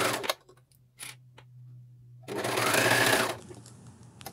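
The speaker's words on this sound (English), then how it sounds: "I'm using 3 needles cover stitch here." A Juki MCS1500 coverstitch machine with three needles sewing a neckline: a few soft clicks, then a brief fast whirring run of stitching about a second long, close and quiet.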